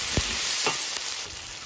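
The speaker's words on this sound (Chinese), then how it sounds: "现在来烧油炒火锅底料，倒入姜蒜、干辣椒、小米椒" Ginger, garlic and dried chilies sizzle steadily in hot oil for a hotpot base, a close, continuous frying hiss broken by a few brief stirring clatters.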